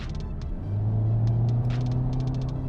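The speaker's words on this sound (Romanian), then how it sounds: "modul în care se aude motorul devine un pic, dă un pic dependență" A 2019 CUPRA Ateca turbo engine accelerates onto a highway, heard from inside the cabin as a steady, rising low rumble under road noise, with no talking.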